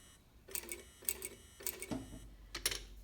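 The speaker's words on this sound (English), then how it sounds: "I'm going to do 3 or 4 stitches in reverse." A sewing machine runs a few short stitches in reverse, producing quiet, close, evenly spaced mechanical clacks in short bursts, with a soft thump partway through.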